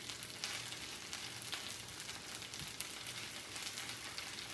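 Hash browns sizzle steadily in a small pan for a hearty sheepherder's breakfast, a continuous close crackle with scattered pops and spits and no talking.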